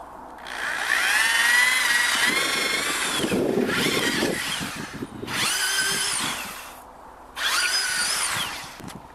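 A power tool drives zinc lag screws into wood for an outdoor climbing wall bracket, whirring loudly and close in three long bursts, its whine rising in pitch as each screw bites.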